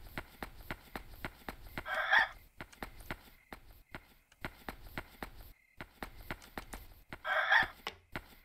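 Chicken clucks in the horror game Yomawari: Night Alone, two short separate bursts several seconds apart, set over a continuous run of quick, regular footsteps and faint background ambience.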